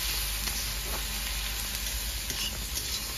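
Ginger garlic paste sizzles steadily in a hot frying pan while a Bengali rui fish kachori and chana masala are cooked at home; a loud, continuous hiss with no voices.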